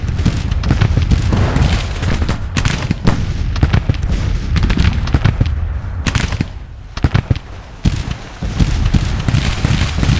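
Civil War artillery and rifle fire in Grand Tactician: The Civil War crack and boom in dense, irregular volleys, loud and continuous, with no pauses and no speech.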